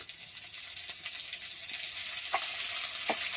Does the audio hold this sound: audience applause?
no